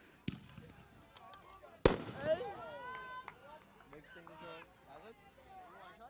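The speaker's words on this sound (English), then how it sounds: "And that's the fireworks" At a youth T20 cricket final, a loud firework bang is followed by scattered smaller pops and crackles, with excited voices and cheering rising over it.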